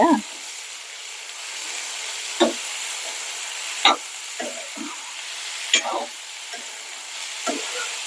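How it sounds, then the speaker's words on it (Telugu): Ivy gourd and green chillies fry in hot oil with onion, a steady sizzling hiss punctuated by several sharp spatula clanks and stirring scrapes against the pan. "ఇది జర నూనెలో ఉడకాలండి, బాగా ఉడకవే"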